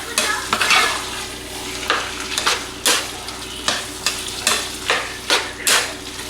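A taco casserole mixture stirred in a pan, with a spoon scraping in repeated rhythmic strokes over a steady sizzle, close and fairly loud.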